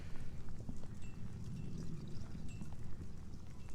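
Seawater from a plankton tow at a city pier poured into a jar, a steady trickling splash that runs continuously for a few seconds, close and moderately loud.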